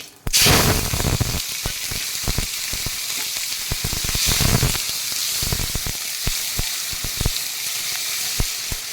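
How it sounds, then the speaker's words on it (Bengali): Whole cumin, dried chillies, bay leaf and tomato frying in a wok for a bhetki fish head kalia: a loud, continuous hiss and crackle of hot oil from the first moment, with occasional stirring scrapes. "মশলাটা আমি একটু ভালো করে ভেজে"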